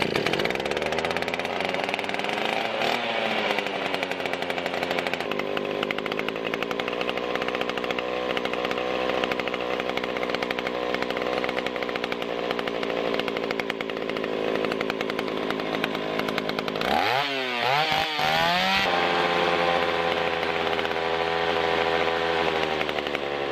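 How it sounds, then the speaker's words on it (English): A small pull-start engine running after its choke is eased back, a loud close buzzing whine held steadily, briefly dipping and revving near the end before settling again, no talk. "I'm gonna back off on the choke just a little bit and give her another pull."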